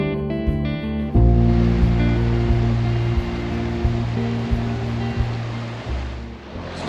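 Rushing water roars steadily and loudly close by, a broad continuous wash of flow like a fast river, with a low engine-like hum underneath.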